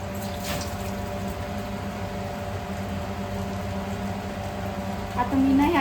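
Water pours into a crab curry gravy in a pot, a steady close rushing hum with a brief gurgle near the end, heard without talk.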